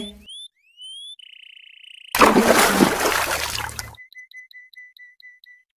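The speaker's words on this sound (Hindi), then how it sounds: "राजू कौवा उस पानी में गिर जाता है" A cartoon crow falls into the sea with a loud splash lasting almost two seconds, set between whistling cartoon sound effects and followed by a run of evenly spaced bubbly blips.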